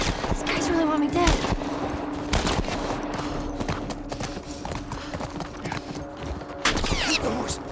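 Horse hooves clip-clop at a gallop amid bursts of gunfire in The Last of Us, with rapid shots and a horse whinny cutting through a busy game scene.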